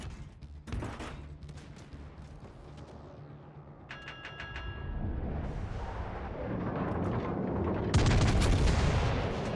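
Warship main guns firing in World of Warships Legends, a dense rumbling barrage of booms and blasts building toward a loud final volley, with no talk over it.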